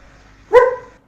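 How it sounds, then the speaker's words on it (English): A dog gives one loud, close, sharp bark that rings briefly in an otherwise quiet dark house. "that was your dog"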